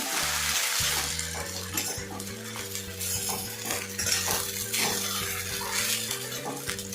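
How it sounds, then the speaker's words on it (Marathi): Sabudana khichdi being stirred in a pan after a little milk is added: a spoon or spatula scrapes and clinks steadily against the metal over a soft, continuous sizzle, close up with no talking. "हे दूध टाकल्यानंतर आपल्याला व्यवस्थित अशी मिक्स करून घ्यायची"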